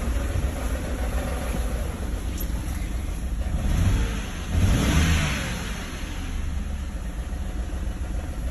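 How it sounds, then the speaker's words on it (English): A car engine idles steadily, then swells in a couple of brief revs before settling back to a rumbling idle, close by with no talking. "we're gonna give it a rev, a little bit of an engine rev"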